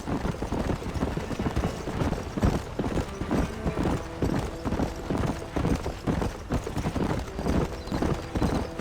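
Horse hooves clip-clop steadily at close range as a horse sets off and keeps walking in the Red Dead Redemption video game, an even rhythmic beat of hoof strikes over a low ambient bed.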